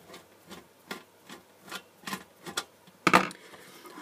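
A screw is backed out of an LED high bay factory light with a hand tool: a series of small ratcheting clicks in an uneven rhythm, then a short louder clatter as it comes free, close and faint.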